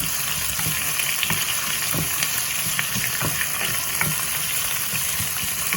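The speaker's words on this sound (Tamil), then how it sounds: "இப்போ வந்து வெங்காயத்தையும் பச்சை மிளகாயும் போட்டுருவோம் போட்டுட்டு வடிவாக கிளறி விடுவோம்" Onion and green chilli fry and get stirred in a pan for a chicken curry, giving a steady sizzle with scraping spoon strokes at intervals and no talk.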